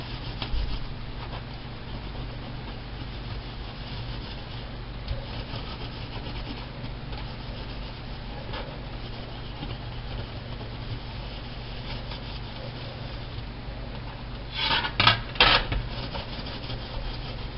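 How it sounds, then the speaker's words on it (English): A Scotch-Brite pad scrubs residue off a copper gasket in steady, close rasping strokes that run continuously, with a short burst of harder scrubbing near the end. "just take the rest off with a piece of Scotch-Brite"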